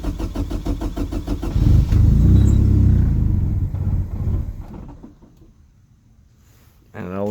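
Car engine cold start: cranking rumble builds into a loud, rough idle that slowly settles and quiets, then the engine is cranked again at the end.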